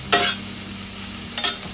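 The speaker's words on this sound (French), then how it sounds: "donc la cuisson de la viande c'est parti" Beef for tagliata de bœuf cooks in a hot pan with a steady close sizzle, broken by two sharp bursts of spattering or utensil scraping, one near the start and one near the end, with no talk.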